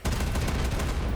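Two Compiler cannons in a video game fire at once, a dense, loud, continuous barrage of rapid blasts with heavy low rumble throughout.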